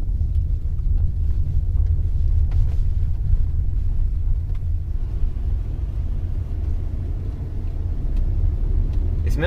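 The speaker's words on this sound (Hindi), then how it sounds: "इसमें ना इतनी आवाज इंजन की नहीं आती जितनी ज्यादा इसकी फैन से आती है ना" Steady low rumble inside a moving 2021 Tata Nexon, with engine and road noise and a blower fan wash held at an even level throughout, no speech.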